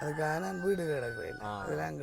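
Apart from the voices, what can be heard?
No distinct noise like a dog, phone or traffic.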